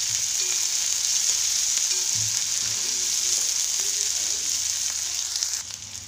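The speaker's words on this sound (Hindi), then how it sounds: "ऑनियन को हल्का ब्राउन होने तक हमें इसको पकाना है।" Onions frying in a pan until light brown for a rustic Indian eggplant bharta, a steady close sizzle with faint stirring scrapes, continuous and fairly loud for the whole stretch before easing slightly at the end.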